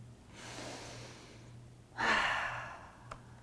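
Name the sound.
deep breath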